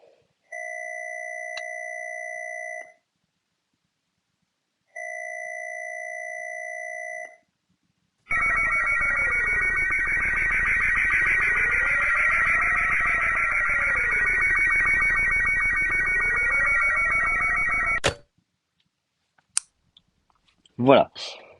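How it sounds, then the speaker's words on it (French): Phone pickup tone in the Melon Playground video game: two short, steady electronic beeps, then a long, loud warbling tone lasting about ten seconds that stops abruptly, followed by a few faint clicks. "ça c'est le téléphone qui décroche"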